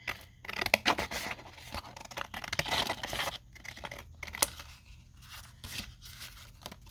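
Scissors snip through paper cut for junk journal embellishments, a close run of crisp irregular cuts and rustles with brief pauses between strokes and no talking.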